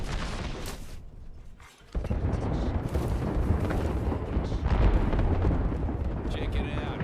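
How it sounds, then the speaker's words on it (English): An airstrike pounding down in a shooter video game, with dense, continuous rumbling blasts and roaring explosions filling the mix, loud and sustained after a brief dip. "Airstrike incoming."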